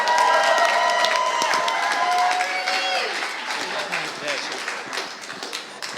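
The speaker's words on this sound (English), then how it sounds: "Big round of applause." An audience at a B2B sales event applauds and cheers, a dense burst of clapping that starts loud and gradually thins out as a voice carries over it.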